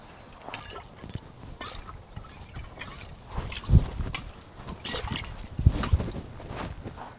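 Water is poured, with irregular splashing and dripping trickles, a couple of louder splashes standing out against a quiet room.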